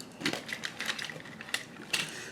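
A 1-inch circle punch snapping through cream cardstock, giving several sharp, close clicks and crunches at an uneven pace with no voice.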